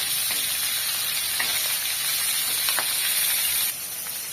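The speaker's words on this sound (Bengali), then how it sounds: "এটা ভাজতে সুন্দর করে।" Bay leaf, onion, garlic, plain cumin and black cumin frying in hot oil in a village kitchen, a steady close hiss and sizzle with scattered small pops, no talking.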